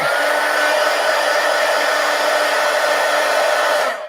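Wet paint on a collage art journal page is dried with a heat gun, its constant loud blowing rush held close for several seconds before it shuts off.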